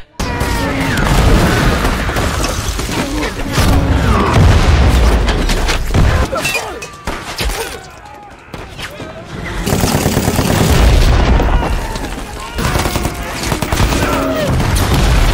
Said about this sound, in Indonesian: Di sini terlihat tembak-menembak pun terjadi.